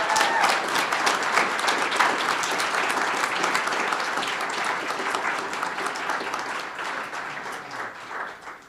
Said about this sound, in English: let's give them a hand of applause for all the work they do